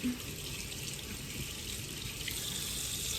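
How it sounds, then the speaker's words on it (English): A kitchen tap runs steadily while hands are washed, a continuous close hiss of flowing water into a sink with no talk over it. "Wash my hands"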